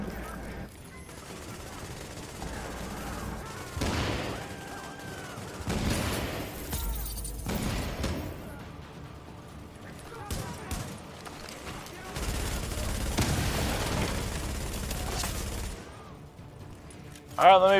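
A boss in the video game The Division fires a machine gun in repeated long bursts between quieter gaps, heavy and close, with someone talking over parts of the gunfire.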